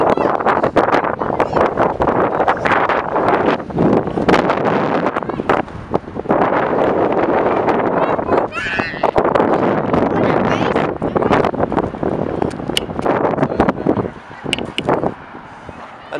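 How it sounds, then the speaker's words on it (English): Strong wind buffets the microphone at an abandoned military base in San Francisco, a loud continuous roar with gusty surges, while people talk intermittently over it. "It's so windy."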